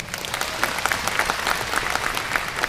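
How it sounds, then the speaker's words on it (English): A convention audience claps, dense and continuous applause from a large crowd that holds steady throughout with no voices. "Give yourselves a hand."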